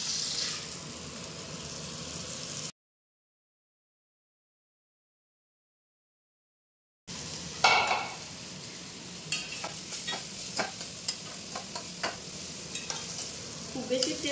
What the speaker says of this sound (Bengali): সবজি ভাজার তেলে আমি ডালটাকে হালকা করে ভেজে আর জলটা দিয়ে দেবো।